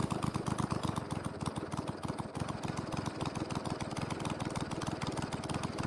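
Small RC model airplane engine on a Voodoo aircraft idling at a very low RPM, a steady rapid chugging putter that runs loud and close for the whole stretch with no talking.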